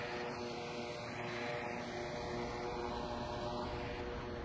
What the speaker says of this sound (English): What's that drone doing?